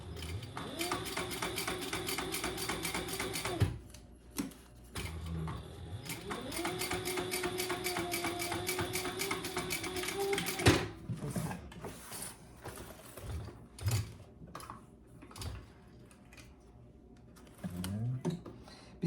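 A sewing machine top stitches a zippered crossbody bag in two long whirring runs, each a few seconds, then a string of short stop-start bursts and clicks with pauses between.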